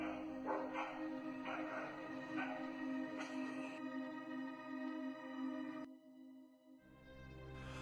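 A pack of stray dogs barks repeatedly at a carriage horse, with sharp overlapping yaps and bow-wows over a steady tonal background hum, then breaks off briefly before resuming.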